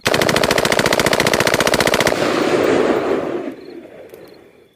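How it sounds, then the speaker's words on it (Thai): Loud, rapid M16 rifle fire as a sound effect in a war audio story: a fast continuous burst of shots lasting about two seconds, then a rumbling echo that fades away. "เสียงปืน M16 จากมือของไอ้หลน ซึ่งปลาดเข้ามาในห้อง ลวกขึ้นเป็นประทัดแตก"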